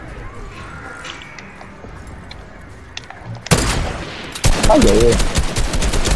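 Fortnite gunfire erupts after a quiet stretch: a sudden loud burst of rapid shots, then an even denser volley of automatic fire, with a voice briefly exclaiming.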